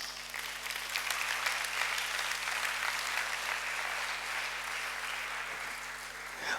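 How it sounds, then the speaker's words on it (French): A church congregation at a solemn convocation applauds continuously, a dense, steady wash of clapping filling the room at an even level throughout, with a faint electrical hum beneath. "Acclamons le Seigneur."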